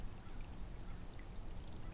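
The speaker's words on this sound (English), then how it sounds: "Love hearing water flowing." Creek water flowing through a canyon stream, a steady soft rushing and trickling wash that continues evenly throughout, faint and without any voices.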